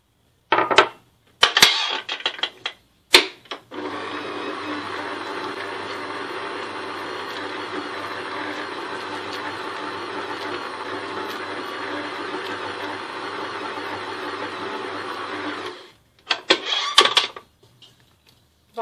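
A machine kneads tortilla dough for Moroccan-style tacos bread in a steady, continuous mechanical whir lasting most of the stretch, bracketed by brief clatters and knocks before and after.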